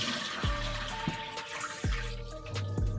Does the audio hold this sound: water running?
yes